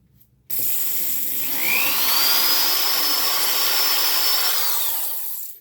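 A drill bit bores a hole into a Seydel Saxony slider harmonica, a close, loud whirring grind with a rising whine that holds steady for a few seconds and then fades as the drill slows.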